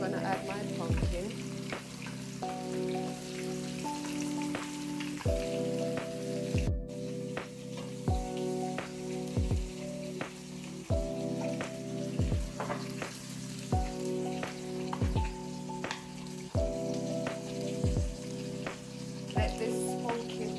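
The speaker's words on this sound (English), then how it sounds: "Now I'm gonna add my pumpkin." Chunks of pumpkin frying in a hot pot for pumpkin seasoned rice, giving a steady, moderately loud sizzle. Background music with a regular beat plays over it, and there are occasional stirring noises.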